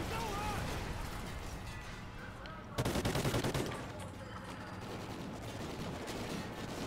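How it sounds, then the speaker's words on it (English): Dense, rapid bursts of gunfire crackle over a constant background din in Call of Duty: Ghosts, with a sharp louder volley in the middle. "all these gunshots were taking place"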